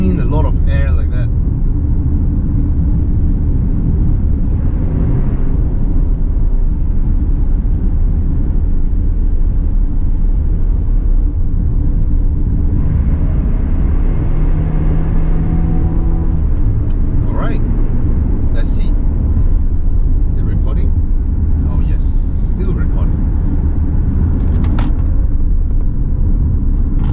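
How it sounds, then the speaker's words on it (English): A 2019 Proton X70 SUV with 2WD cruises along. Its engine intake gives a steady, close, fan-like rush and rumble, and road and wind noise run under it the whole way. Brief speech comes and goes over it. "This one sounds like a huge fan. It's like sucking in a lot of air like that."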